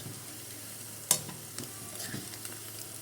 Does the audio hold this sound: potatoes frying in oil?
yes